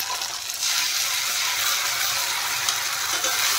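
Spice paste hits onions frying in a pan for a restaurant-style masala rajma, producing a loud, steady hiss and sizzle that swells slightly after the first half second, close up with no talking.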